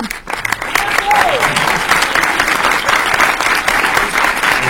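A cinema audience at the Méliès in Montreuil applauds director Thierry de Peretti, producing steady, dense clapping that stays loud and even throughout, with a brief murmur at the start.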